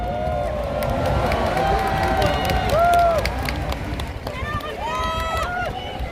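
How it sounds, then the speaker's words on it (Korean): A large crowd claps and cheers at an outdoor presidential election campaign rally in Gwanghwamun square, a sustained wash of applause under a loudspeaker announcer's amplified voice. "모두의 뜨거운 박수로 네 분을 맞이해 주시기 바랍니다."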